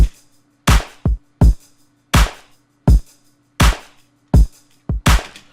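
A programmed sampled hi-hat pattern of sharp, bright hits in an uneven, double-struck rhythm, some strikes landing in quick pairs, with a faint steady hum underneath.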